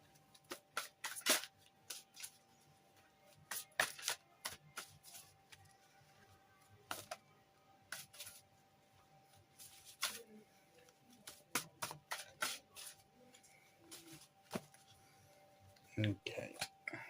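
Mystic Pilot Tarot cards being shuffled, a steady run of quick, crisp riffling bursts and soft card flicks repeating throughout, close and fairly quiet.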